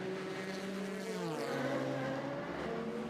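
The number 91 Porsche and the number 71 Ferrari race cars battling at the 2017 24 Hours of Le Mans, their engines a steady buzzing whine whose pitch drops as they sweep past, with no voices.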